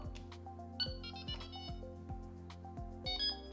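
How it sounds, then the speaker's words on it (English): A Delkim Rx-D bite alarm receiver sounds its pairing confirmation tone: a run of electronic beeps in a steady stepped rhythm with a few higher chirps, clear and close with no talk. "When the code is accepted, you will get the confirmation tone"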